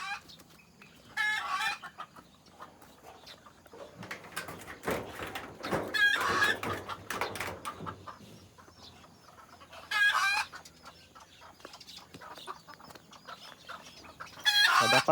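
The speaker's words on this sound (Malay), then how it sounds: "Jom kita tengok kenapa ayam ni bising." Backyard chickens cluck noisily and a rooster crows in agitated bursts, fairly close, with louder squawking flurries rising and falling over a steady background of clucking.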